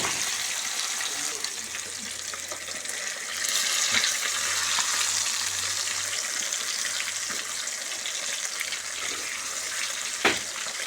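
Fish fry being turned slowly in a pan over medium heat gives a steady, close sizzling hiss for the whole stretch, with soft scrapes and one sharp tap near the end.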